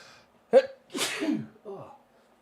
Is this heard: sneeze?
yes